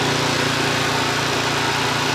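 Petrol-engine machine crushing napier grass on a farm, a loud steady running engine drone throughout, close by, with no speech.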